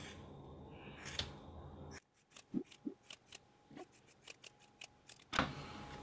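Scissors trim the uneven sides of a handmade craft monster, a series of close, crisp snips in an uneven rhythm over a quiet background.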